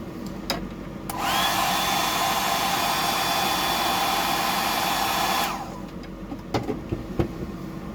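A hair dryer blows a steady, loud whirring airflow for about four seconds while drying paint on a 175mm mullet fishing lure. The dryer starts and stops abruptly, with faint handling knocks before and after.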